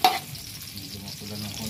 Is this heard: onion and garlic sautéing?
yes